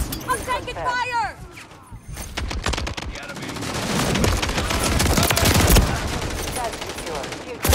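Rapid automatic gunfire from a first-person shooter game rattles almost continuously, loud and dense, with bursts piling up and a few sharp reports, while a player talks excitedly over it.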